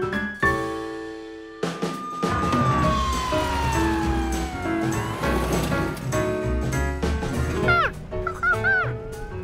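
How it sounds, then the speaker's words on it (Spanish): A cartoon ambulance siren rises and falls over lively background music and other effects, loud and steady across the stretch. "¿quieres venir en la ambulancia con nosotros?"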